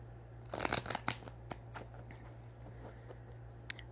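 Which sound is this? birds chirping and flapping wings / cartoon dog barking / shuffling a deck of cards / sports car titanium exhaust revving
shuffling a deck of cards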